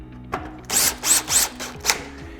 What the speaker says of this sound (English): These are self-tapping screws, so they go in pretty darn easy.